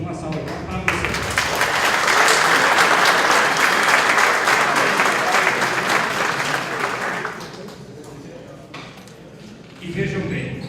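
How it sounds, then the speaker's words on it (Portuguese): A crowd bursts into sustained applause, loud and dense for several seconds, then fades out before a brief final smattering of claps. "Uma salva de palmas para vocês."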